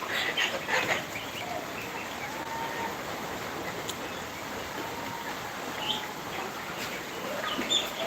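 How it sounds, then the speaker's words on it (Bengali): Chickens cluck and call intermittently at a moderate distance on a farm with ducks, with other birds chirping over a hushed outdoor background. "এখানে হাঁসও আছে ডিমের হাঁস আছে ডিমের মুরগি আছে"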